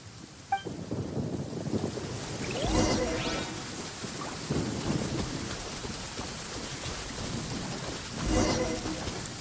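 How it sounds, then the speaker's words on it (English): Steady rain and wind of a lightning storm in Genshin Impact, with two louder swells of thunder rumbling midway and near the end, all held at a moderate, distant level. "Uh-oh! Lightning storm!"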